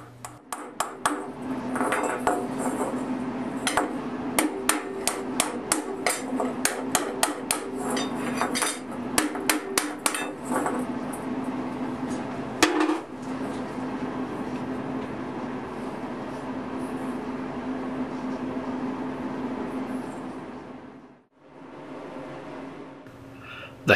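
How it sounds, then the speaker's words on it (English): A light hammer taps steadily and systematically on a hand-forged steel ladle, a rapid ringing series of metallic strikes that continues for about ten seconds, then gives way to a background hum and a lone clang. "I'll just take a very light hammer and go over the entire piece very systematically"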